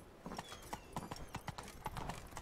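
Horse hooves from Roach, Geralt's mount in The Witcher 3 video game, clip-clopping in a steady galloping rhythm, close and fairly loud, with no talking over them.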